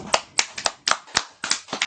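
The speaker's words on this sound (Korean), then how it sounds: "박수로 맞이해 주시기 바랍니다." A small seminar audience claps to welcome a student presenter: about eight crisp, separate hand claps in an uneven rhythm, close and fairly loud, with no voices.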